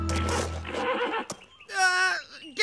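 A cartoon horse whinnies loudly with a wavering, high neigh, following a stretch of speech and a brief sharp knock.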